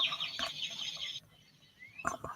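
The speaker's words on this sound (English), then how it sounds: "you could just hear the birds chirping" Birds chirp and cluck at a nature preserve in quiet outdoor footage, a dense bright twittering for the first second, then near silence before a few louder calls close by.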